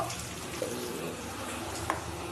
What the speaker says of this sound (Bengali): আমি অল্প করে কলটা খুলে মশলার মধ্যে জল নিয়ে নিলাম